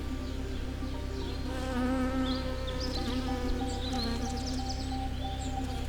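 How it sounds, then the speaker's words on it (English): Bees buzz steadily and continuously in a summer garden, a close, dense drone with faint birdsong in the background. "the buzz of bees"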